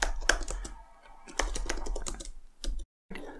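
Rapid keystrokes on a computer keyboard while entering an SQL insert statement, a close, busy run of clicks with short pauses and a brief silent gap near the end.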